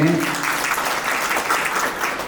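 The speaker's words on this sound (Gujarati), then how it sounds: "એકવાર તાળીથી એમને વધાવો મંજીભાઈને" An audience at a Suthar community seminar claps to welcome Manjibhai. The applause is dense and sustained, crackling steadily from start to finish without any speech over it.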